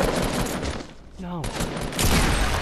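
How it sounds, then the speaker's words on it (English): Shotgun blasts in Fortnite Battle Royale, sharp loud reports amid a busy stretch of gunfire, with a short spoken exclamation in a lull before the shooting resumes. "Shotgun!"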